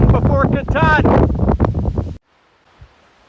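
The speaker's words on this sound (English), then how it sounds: "The wind is somewhere in the 40 to 50 mile an hour gusting range." Strong gusting wind roars across the microphone on the exposed summit of Whitecap Mountain along the Appalachian Trail, loud low buffeting under a voice for about two seconds before cutting off into near silence.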